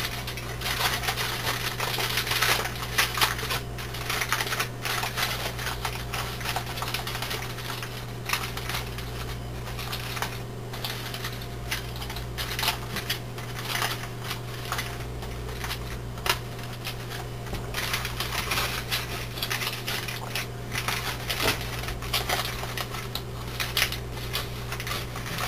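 Foil pouch folded and crimped shut around wild tigerlily food, soft crinkling and crackling close by over a constant low hum, steady throughout with no talking.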